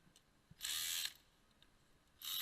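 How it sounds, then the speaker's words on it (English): Ratchet wrench loosening the inverted Torx bolts on the intake manifold of a 2002 Mercedes C320, set between the two cylinder heads; two bursts of quick clicking, one around half a second long and a second starting near the end, with quiet between. "Now I'm taking out the main inverted Torx bolts that hold the intake manifold in between the two cylinder heads."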